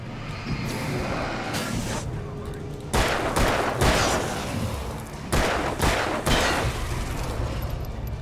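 Gunfire in the video game Alan Wake, bursts of loud sharp shots cracking out in several clusters over a constant low background hum.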